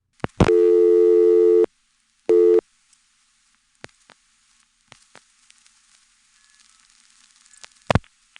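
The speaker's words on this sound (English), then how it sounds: "This time we hear the ringtone from Greenwood, but for some reason it's not very loud" A telephone ringback tone through a 1977 GTE/Leich CXP-5 crosspoint switch in McCormick, South Carolina, sounds in one long burst and then a short one, followed by clicks and faint line static.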